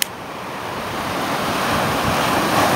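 Ocean surf rolling in at Ventura Beach on an early morning, a steady, building wash of waves with wind noise on the microphone and no voices.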